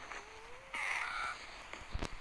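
In the video game Survivalcraft 2, a crow-like bird gives a short harsh caw amid game effects, including a rising tone and a brief buzzing sweep, followed by a couple of light clicks.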